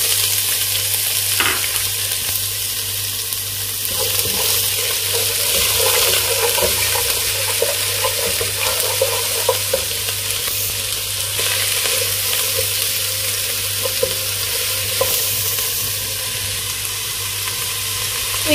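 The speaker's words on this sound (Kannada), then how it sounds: "ಈರುಳ್ಳಿ ಕೂಡ ಇವಾಗ ಚೆನ್ನಾಗಿ ಫ್ರೈ ಆಯ್ತು" Chopped onion sizzles steadily in hot oil in a pan as dill-leaf palya is cooked, with occasional stirring scrapes over the continuous frying hiss throughout.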